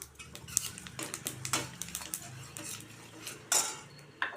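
A spoon clinks and scrapes in a cooking pan as mango pickle is stirred over a low flame, with sharp metallic taps scattered among quieter scraping and no voices.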